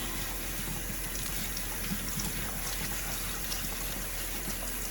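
Steady rush of tap water running into a sink while rice is rinsed, a constant close wash of sound with no talk.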